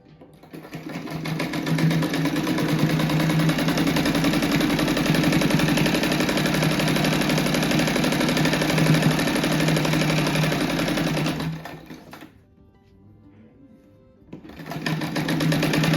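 A sewing machine runs in one long, steady loud burst, stitching a seam to join pieces of a rabbit rug, then stops for about two seconds before starting again.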